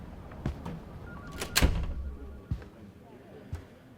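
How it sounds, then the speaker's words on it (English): A door swings shut with a solid thud, followed by a couple of fainter knocks and bumps in a quiet room. "Shut the door."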